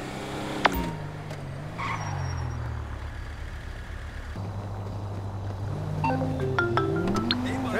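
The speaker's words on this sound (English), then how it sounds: "That's the garbage truck." Garbage truck in the video game GTA 5: a steady, mid-volume engine drone with gear-like pitch shifts, a brief hiss of air brakes near the start, and faint other traffic in the background.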